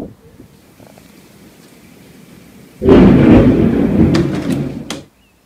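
A loud, close thunderclap from a strong thunderstorm with lightning over Osona, bursting in after a quiet lull and rumbling for about two seconds before cutting off abruptly.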